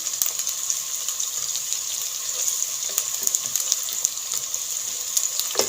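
Eggplant (baingan) cooks in a pan for achari baingan, giving a steady, close crackling sizzle with small pops throughout and no talking.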